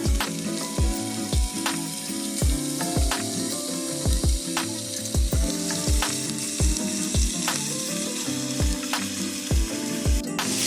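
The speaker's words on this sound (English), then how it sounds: "Now we can begin to add in our ground beef." Ground beef sizzles in a pan with sautéed onions and minced garlic for pepperoni pizza sloppy joes, a steady frying hiss under a backdrop of rhythmic music, with no voices.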